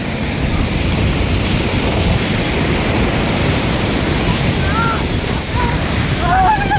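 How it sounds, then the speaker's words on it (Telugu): Steady, roaring surf at RK Beach in Visakhapatnam, with waves washing in continuously and wind buffeting the microphone close up, and faint voices and calls near the end. "ఇదే ఆర్కే బీచ్"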